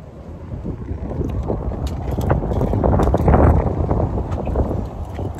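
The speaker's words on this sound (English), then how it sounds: "Told you it's windy." Wind gusts outdoors on a walk to the Autry museum, a blustery rumble against the microphone that swells toward the middle and stays steady, with faint clicks and no talking.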